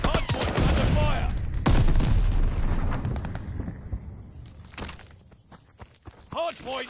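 Gunfire and explosive blasts in a Call of Duty Vanguard Hardpoint match, loud close shots early that thin into scattered distant bangs, with a game announcer voice speaking over it.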